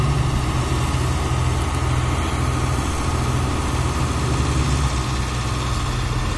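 A diesel engine, likely a Japanese farm tractor, idles steadily close by, giving a low, throbbing rumble with constant vibration and no change in pace.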